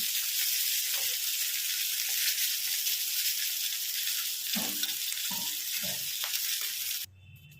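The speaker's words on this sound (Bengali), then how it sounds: "দেখুন কড়া করে ভেজে নিয়েছি" Hilsa fish pieces fry crisp in hot oil with a loud, steady sizzle, broken midway by a few soft clinks and stirring sounds before it cuts off near the end.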